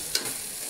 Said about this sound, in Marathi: थोडंसं तेलामध्ये परतून घ्यायचं. म्हणजे लसूण, अद्रक, खोबरं हे थोडं याच्यात भाजलं जातं